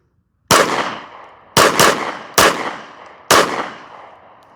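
A Glock 19 pistol fires a five-round magazine: loud, sharp, close reports with ringing decays, two of them in quick succession, the rest spaced nearly a second apart.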